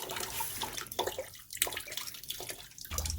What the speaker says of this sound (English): Draining the second expansion tank.